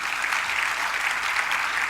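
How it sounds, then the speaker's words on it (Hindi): A gathering at a religious discourse claps softly and steadily, a dense even patter of many hands at moderate distance, fairly quiet and continuous with no voices over it. "इतनी धीमी ताली बजाने से वो नहीं ठिठकेंगे"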